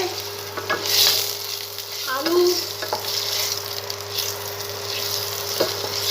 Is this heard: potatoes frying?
yes